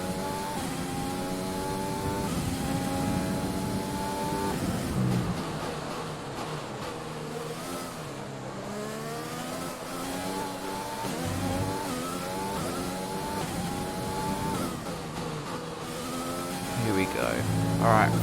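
F1 2020 Formula One car on a qualifying lap at the Dutch Grand Prix, its engine revving up and down through gear changes with rising and falling harmonic whines, steady and fairly loud throughout.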